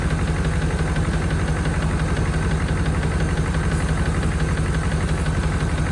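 A 1992 Chevrolet Caprice wagon engine, bought cheap as a parts car after being seized, runs steadily with a close, even rhythmic knock and mechanical vibration throughout, with no talking.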